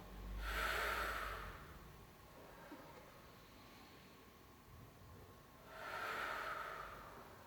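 Two loud, close breaths drawn in a Pilates exercise class, each a broad airy rush lasting about a second, with a long quiet pause between them and no talking.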